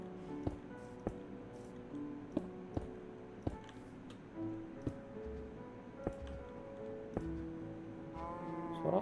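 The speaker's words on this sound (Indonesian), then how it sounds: "Suara apa itu? Oh, sapi." A cow moos in the Minecraft video game, a low drawn-out call heard amid blocky game ambience with repeated sharp clicking ticks and a rising tonal sound near the end, no talking over it.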